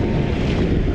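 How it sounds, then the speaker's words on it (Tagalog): Strong wind at sea buffets a kayak out fishing, a loud continuous roar of gusts and wind noise on the microphone mixed with the wash of waves, with no voices. "biglang lumakas yung hangin"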